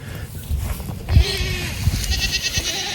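Goats on a small homestead bleat a few times amid calves and other farm livestock, the calls short and close against a steady outdoor background.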